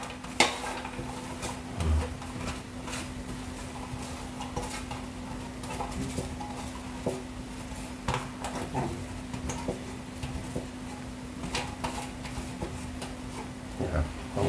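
A utensil stirs Isan-style duck larb with galangal, kaffir lime leaves, shallots, spring onion and coriander in a bowl, giving soft scraping and light clinking taps over a steady background hum, with no talking.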